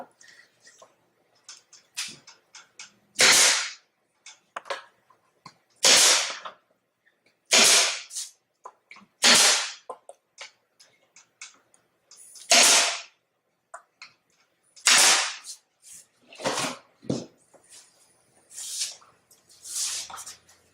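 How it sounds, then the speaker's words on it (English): A brad nailer drives nails into a 48-channel control box: about a dozen sharp, loud, close pneumatic snaps spaced a second or two apart, with small handling clicks and taps between them. "Brad nailer is about the fastest way though."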